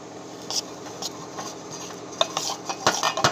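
Rava dhokla batter with soda stirred by a spoon in a bowl, quick clinking and scraping strokes that speed up toward the end, close and without talk.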